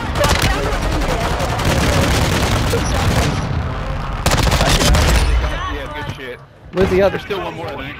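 Video game gunfire: dense, continuous bursts of automatic shots and booms, loud and close, with voices talking over the shooting before it thins out near the end.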